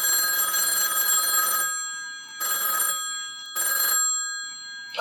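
A phone rings with an incoming call: three electronic ring bursts, the first long and the next two shorter, separated by brief silences, loud and close with no talking over them.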